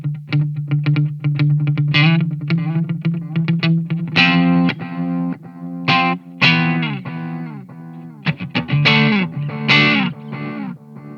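An electric guitar plays through an effects chain with distortion and a dark delay, picked notes and chords trailing into murky, echoing repeats, loud and alone.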